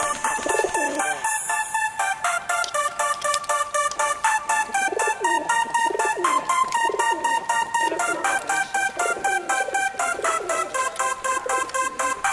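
Pigeons coo repeatedly amid a dense, continuous chorus of chirping birds nearby.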